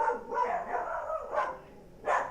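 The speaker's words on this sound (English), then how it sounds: "And the dogs are going off." Dogs barking during a pool or snooker match, a few sharp nearby barks in short bursts with gaps between them.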